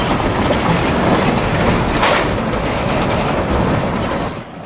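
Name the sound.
train wheels rolling through a spring switch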